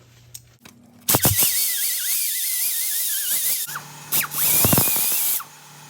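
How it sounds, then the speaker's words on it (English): A die grinder cleans the wheel bearing mating surface on a 2004 Oldsmobile Alero, giving a high, squealing whine in two sustained bursts after a short blip, with wavering pitch as it bites the metal. "I'm just going to use my die grinder really quickly."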